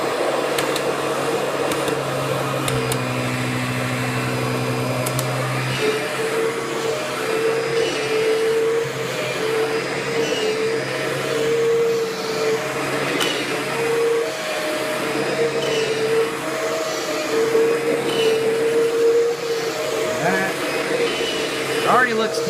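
A Kirby G6 2000 Limited Edition upright vacuum cleaner runs on carpet in a deep pickup demonstration, its loud motor drone steady throughout with a shifting whine as it is pushed back and forth, while someone talks over it.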